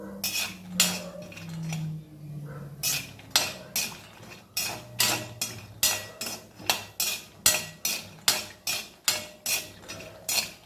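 Cashews roast in a pan for carrot halwa. A utensil stirs and knocks against the metal pan in quick, rhythmic scraping clinks that speed up into a steady beat.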